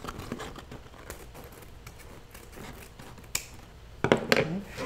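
Scissors snipping a large wired ribbon off its bolt for a presentation bouquet, a series of scattered crisp cuts and rustles close by, with sharper snips and crinkling near the end.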